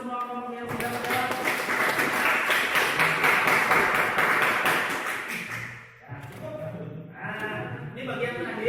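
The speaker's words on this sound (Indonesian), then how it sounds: "Tepuk tangan untuk semua kelompok yang sudah menjawab" Classroom applause for the student groups that answered: a dense burst of clapping that lasts about five seconds, fades out, and gives way to a teacher's voice speaking.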